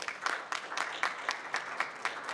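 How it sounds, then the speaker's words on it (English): A conference crowd claps for the organizing team, a brisk, dense patter of many hands with a few louder claps pulsing through, fairly close and with no voices over it. "So can we clap for this team?"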